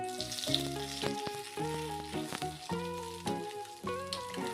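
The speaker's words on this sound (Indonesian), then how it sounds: "ini aku tumis dulu untuk bumbu tumis sawi putihnya" Seasoning being stir-fried in a pan for a Chinese cabbage dish, with steady close sizzling and frying under harmonic kitchen tones and occasional clanks of stirring.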